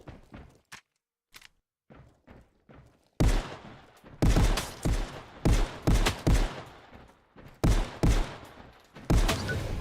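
Gunfire in a VR shooting video game: scattered sharp shots at first, then repeated loud, close bursts of rapid fire in clusters with short pauses between them.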